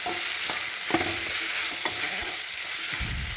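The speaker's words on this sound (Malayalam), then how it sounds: "അരിഞ്ഞിട്ട് തക്കാളിയും കൂടിയിട്ട് നല്ലപോലെ ഒന്ന് വറുത്തെടുക്കാം" Chopped onion and green tomatoes fry in a pan for a green tomato curry, a steady close sizzle with several sharp stirring scrapes and knocks at intervals and no voices.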